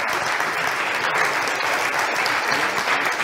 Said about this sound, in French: Profitez de ces applaudissements. On peut les applaudir très fort.